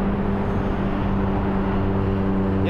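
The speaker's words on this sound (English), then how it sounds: "it is really loud here with the cars" Loud street traffic in Seattle, with cars passing close by in a steady broadband roar under low engine hum, and no talk.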